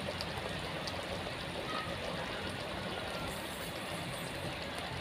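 Crab pepper gravy simmers in a cooking pot, giving off a continuous soft bubbling and hissing that stays even and fairly quiet throughout, with no voices.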